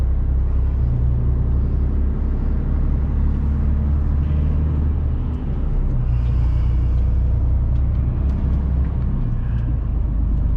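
A loaded truck pulls away onto a road in the Champagne-Ardenne region, its engine a steady heavy low rumble that fills the whole stretch at close range, continuous and loud with no talk over it.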